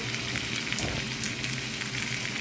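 Steak sears in oil in a hot pan on a stove, giving a continuous crackling sizzle with a brief low thump partway through, close and steady.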